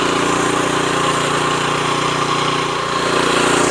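A Tru-Cut C-25 reel mower with a Honda GX160 engine runs steadily at full throttle, its small-engine drone loud and close and rising and dipping slightly as it surges, with no talking.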